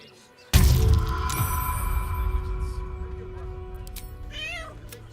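A cat meows in the fantasy role-playing game Baldur's Gate 3, rising briefly over a loud, droning ambient game soundscape that opens with a sudden swell.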